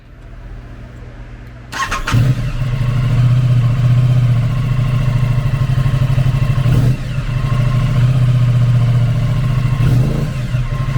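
A 2023 Aprilia Tuono 660 Factory motorcycle with its 659cc engine fires up after a quiet start and settles into a loud, close, steady idle, with two brief throttle blips around the middle and end.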